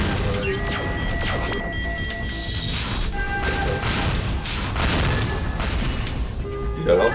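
Swarm missiles bursting in the video game World Destroyers, a dense barrage of overlapping booms and crashes with electronic effects, continuous and loud throughout, with people talking over the action.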